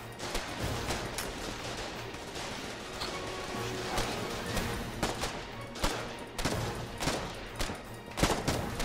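Gunfire from the wartime multiplayer game Foxhole crackles in scattered bursts and single shots. The shooting is fairly faint and distant and comes in an irregular rhythm over a continuous battlefield rumble.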